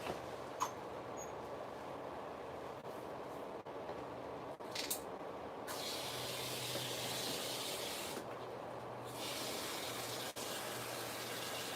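Containers are filled with water in a steady, quiet gushing hiss that grows fuller partway through and briefly drops off before resuming, with faint clicks and handling noises early on.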